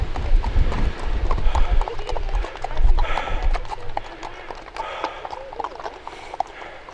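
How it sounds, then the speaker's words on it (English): Horses walk near a quarry trail at Minions on Caradon, their hooves clip-clopping in a steady rhythm that fades as they pass, with people talking over them. "Here are the horses that we saw earlier,"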